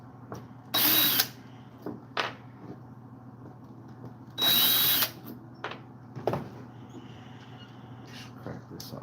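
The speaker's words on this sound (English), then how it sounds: "Carburetor. Let's take the mounting screws out." Power drill backing out the carburetor mounting screws on a chainsaw under restoration, two longer close bursts of whirring and a few short blips, with quiet handling noise between.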